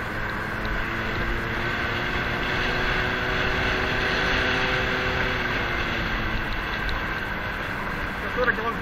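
A Honda Dio moped rides through a small northern village, its small two-stroke engine droning steadily and close throughout with a slight rise in pitch, over a constant wind-rush background.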